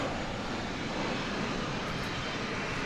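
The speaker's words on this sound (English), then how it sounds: "Arriving now is this American Eagle Embraer 175 coming in from Monterrey in Mexico." An American Eagle Embraer 175 jet arriving at DFW Airport at night, heard as a steady, moderately loud broadband engine roar throughout with no talk.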